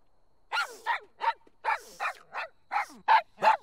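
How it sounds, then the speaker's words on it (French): A cartoon dog barks in short, sharp yaps, about ten in quick, slightly uneven succession, close and clear with nothing else heard. "une souris n'aboie pas"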